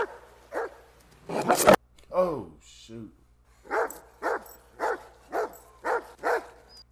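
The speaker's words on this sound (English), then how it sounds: "The dog sounds like it's aggressive right now." A dog barks aggressively in a tense scene from the 2002 film Signs, a run of about eight evenly spaced, sharp barks following a short burst of noise, with people talking at the start.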